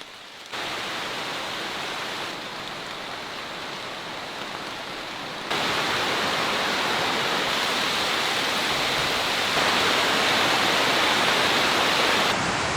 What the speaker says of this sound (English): now it has to rain